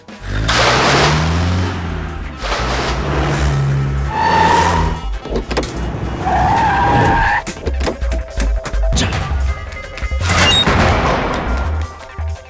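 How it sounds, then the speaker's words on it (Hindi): A car starts and speeds off, the engine roaring loudly with rising tones and squealing tire skids, mixed with crashing and banging sounds across a busy, continuous stretch. "गाड़ी स्टार्ट कर, जल्दी गाड़ी स्टार्ट कर, चल।"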